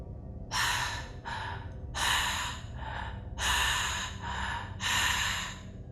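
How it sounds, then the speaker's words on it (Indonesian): Heavy, labored sniffing breaths behind a hiker on a mountain trail, four loud breathy bursts alternating with softer inhales in a slow, uneven rhythm, close and alone. "tiba-tiba terdengar ada suara nafas yang mengendus di"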